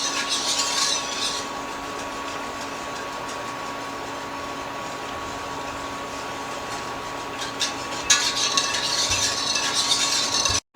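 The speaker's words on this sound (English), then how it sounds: "I'm just getting it up to a simmer. But just continue to whisk it" Milk being whisked in a pot as it heats to a simmer for seafood mac and cheese, a steady close scraping and swishing rhythm with light metal clinks, no talk.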